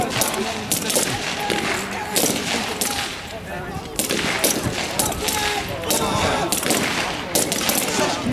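Sustained machine gun bursts and rapid volleys at an Air Assault engineer regiment fire-and-manoeuvre demonstration, loud and continuous with overlapping shots throughout.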